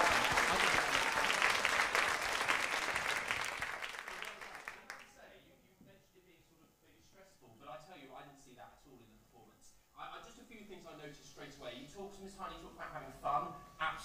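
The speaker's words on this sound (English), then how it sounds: "I think another round of applause for that" A television dance-show studio audience applauds loudly for the first five seconds, then the clapping dies away. Voices of people talking follow in the quieter remainder.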